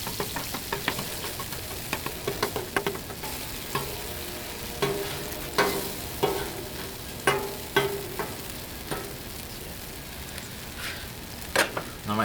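Tomatoes fry on a Blackstone griddle, a constant sizzle punctuated by repeated scraping and tapping of a spatula against the flat top, close and fairly loud.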